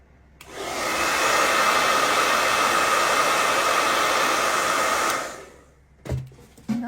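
A hair dryer drying paint on a rustic sled runs steadily and loudly for about five seconds as a dense, even whoosh, then switches off, leaving a couple of brief handling knocks.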